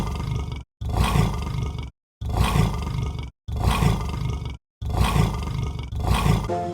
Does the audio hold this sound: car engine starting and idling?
no